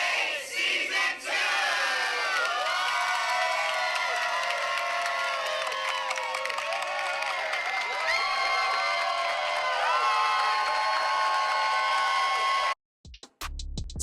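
A large crowd screams, cheers and hollers loudly and continuously, with shrill overlapping voices throughout before an abrupt cut near the end.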